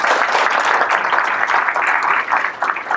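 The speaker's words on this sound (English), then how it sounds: "So give yourselves a round of applause, please." A roomful of people clapping at a breakfast gathering, dense and steady for about three seconds, fairly close and loud.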